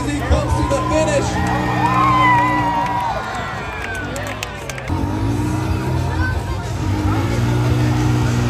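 A monster truck show crowd cheers and roars across a large arena while truck engines rev and an announcer talks over the din.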